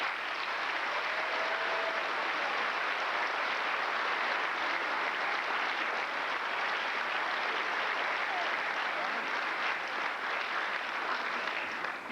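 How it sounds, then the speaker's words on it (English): A graduation-ceremony crowd applauds scholarship students in a long, sustained, even round of clapping lasting about twelve seconds, filling the hall with steady, moderately loud applause and no voices over it. "If you could give these students a round of applause."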